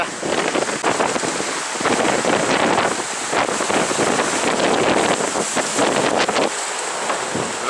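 Strong wind at 22 to 25 knots roars and buffets against the microphone in surging gusts, with rushing water and spray noise from a sailboat racing at sea underneath.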